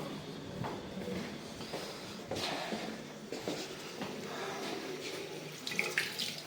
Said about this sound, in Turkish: Şimdi bir de sıcak suyumuz geliyor mu ona bir bakalım.